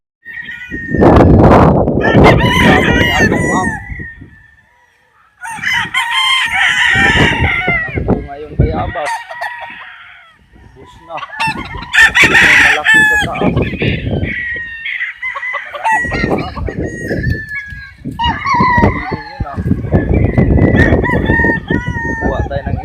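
Chickens and roosters on a farm, loud repeated crowing and clucking close by in several long bursts with brief gaps, the calls overlapping one another.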